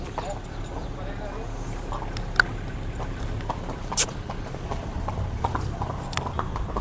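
Mares out for a ride clop along with steady, sharp hoofbeats on the ground while riders chat over them and an occasional vehicle passes.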